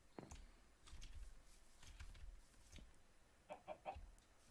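Chickens cluck in a Minecraft farm coop, with scattered soft clucks throughout and then three quick, closer clucks near the end, heard alone at low volume.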